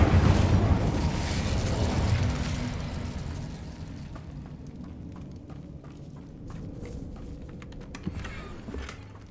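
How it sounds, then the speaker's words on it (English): Incendio fire spell cast in Hogwarts Legacy, a burst of fiery whoosh and crackle that starts loud and fades over several seconds, with scattered sharp clicks and pops near the end. "Incendio!"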